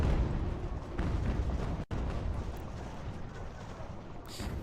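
Cannon and artillery fire from an Ultimate General: American Revolution battle rumbles as a dense, continuous barrage of booms, loud and close, with a sharp break partway through before the roar resumes.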